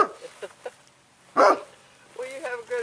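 Gracie the dog lets out one loud, close bark in the middle, with a few softer yips before it, while people talk in a household setting.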